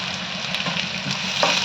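Four or five garlic cloves fry in hot oil in a pan for okra masala bhaji, giving a loud, close, constant sizzle with a few stirring scrapes and no talking.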